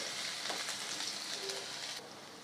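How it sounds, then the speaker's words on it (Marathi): Ginger sizzles and crackles in hot oil in a pan, a steady close frying hiss that drops slightly in level near the end, with no talk. "अद्रक व्यवस्थित तळून घ्यायची"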